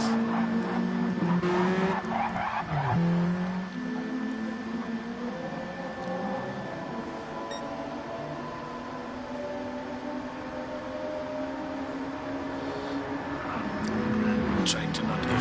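Race cars in a WTCC-style racing game at the Nürburgring GP circuit, a Suzuki Swift and Mitsubishi Lancer among them, with steady engine drone and tire noise running continuously under commentary.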